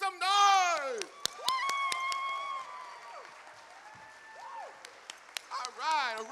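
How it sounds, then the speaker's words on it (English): At a college all-employee meeting, a crowd claps and cheers as people stand, with voices whooping loudly at the start and end over scattered, sharp claps and quieter stretches. "clap your hands, and make some noise"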